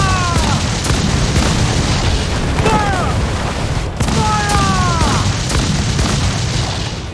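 Ship cannons firing during a naval battle in Assassin's Creed Black Flag, loud repeated booms over a constant roar of wind and sea, with high whistling streaks between blasts and shouted voices mixed in.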